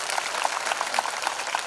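Applause from an audience in an assembly hall at a spiritual gathering, dense continuous clapping at moderate distance with no talk over it.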